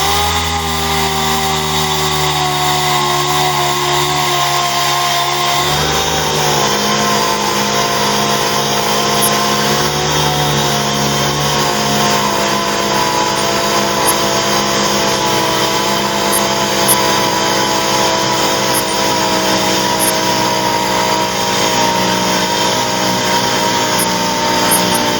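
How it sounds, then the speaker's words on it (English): Air-powered orbital sander with 80-grit paper grinding a ridge off a painted wall, a loud steady high whine and hiss that runs unbroken throughout, with a pitch shift early on as the pad bites in. "I'm using an 80 grit on this orbital sander"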